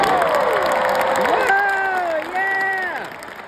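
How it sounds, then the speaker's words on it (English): A graduation ceremony audience at Montclair State University cheers for the mothers present, with loud, sustained whoops and yells rising and falling across a large crowd. "let's give a big cheer for all the mothers in the audience today"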